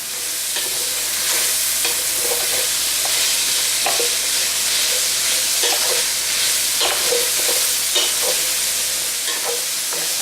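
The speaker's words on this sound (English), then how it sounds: "we're going to saute these until the carrots are soft and the onions are very fragrant" Carrots and onions sautéing in oil for Swiss steak, a loud, dense sizzle that runs without a break, with frequent stirring clinks and scrapes from a utensil against the pan and no talking.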